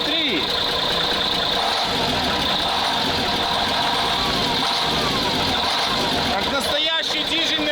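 A Praga V3S diesel truck engine runs loud and close after being flooded, revving with a rough, knocking drone that rises and falls under excited voices.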